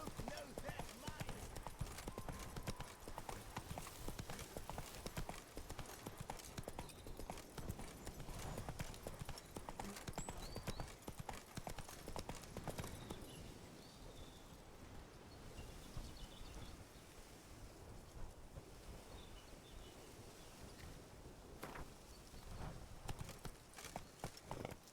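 The Witcher 3 horse Roach galloping, a rapid steady clip-clop of hooves running close by for a long stretch, with outdoor ambience and occasional faint background sounds.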